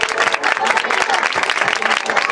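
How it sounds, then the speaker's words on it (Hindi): A church congregation bursts into loud, dense applause that stays steady throughout, close and filling the room. "उस जिंदा खुदावंद के लिए जोरदार तालियां बजाएं।"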